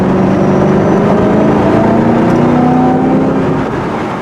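A Ford GT40 engine drones loud and close from inside the car, a steady rumbling note with shifting harmonics as it drives, easing slightly toward the end.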